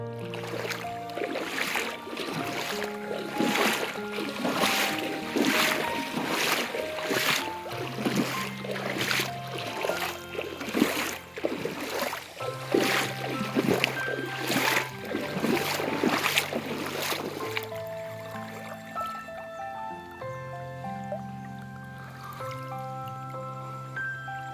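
Water splashing around a boat on a day trip near Coimbatore, a series of rhythmic splashes that fade to a quieter trickle.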